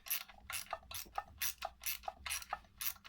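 Bolts on the aluminium intake pipe of a Peugeot 103 moped being tightened with a ratchet: rapid, steady bursts of close metallic clicking in an even rhythm, about three strokes per second, with no talking.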